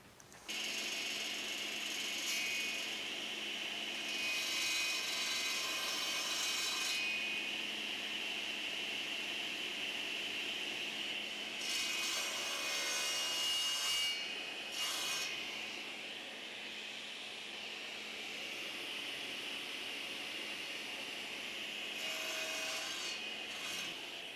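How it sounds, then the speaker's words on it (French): A saw blade set to 10 mm cuts a notch in a wooden part for a vertical workbench press. It is a steady, close rasping whine that lasts throughout, with brief surges in intensity and no talking. "Et je vais faire ça à la scie"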